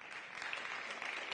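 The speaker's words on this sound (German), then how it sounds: "mit donnerndem Applaus" A theatre audience at a German-language stage talk applauds, a brief, dense burst of steady clapping heard on its own at moderate loudness.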